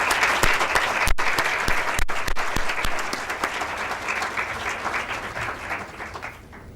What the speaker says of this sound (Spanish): Un aplauso para Yosmaira.